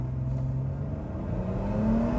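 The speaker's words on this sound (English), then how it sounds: "you come to a stop, you want to see what she's about, you just ramp the gas and off you go" Supercharged RIPP Dodge Charger pulling away from a stop, a steady low engine drone with a rising tone that climbs and swells slightly louder toward the end, no voices over it.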